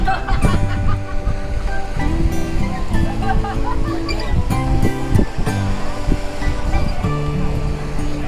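Surf at a Chao Lao beach viewpoint rolls in a continuous loud rushing wash from the open sea, with voices and background sound layered over it.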